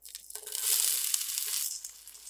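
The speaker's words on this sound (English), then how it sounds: "And then we're gonna add our diced onions to the hot pan." Diced onions hit hot olive oil in a pan, bursting into a loud, steady sizzle and crackle that holds for a couple of seconds right after they drop in.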